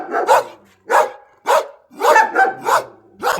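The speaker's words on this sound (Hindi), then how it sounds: "गांव के कुत्ते भौंकने लगे" Several village dogs bark in a close, loud volley of sharp, separate woofs, roughly seven barks spaced irregularly across a few seconds with short gaps between them.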